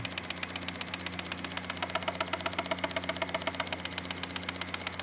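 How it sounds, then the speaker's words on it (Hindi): Rapid, evenly spaced relay clicks from a fuel injector cleaning machine tick steadily over a low humming motor, a fast mechanical pulse close by and fairly loud. "ये काम कर रही है रिले।"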